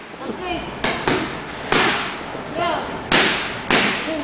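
Boxing punches smacking into pads during a women's boxing session, sharp slaps landing about five times at uneven intervals, loud and close, with a commentator talking over them.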